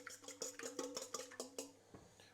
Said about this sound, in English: we're just going to take a fork and whisk that up